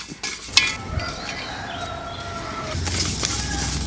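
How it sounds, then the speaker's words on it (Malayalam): Plantain frying in an uruli gives a steady, close sizzle with a few stirring clicks and scrapes, and a faint bird call in the background. "ഇത് കണ്ടോ പൊരിഞ്ഞ് പൊരിഞ്ഞ് വരുന്നത് കണ്ടോ"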